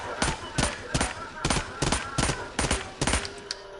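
Short controlled bursts from an MP7 submachine gun in a video game, about eight sharp, evenly spaced bursts in under four seconds, loud and close, with no talk.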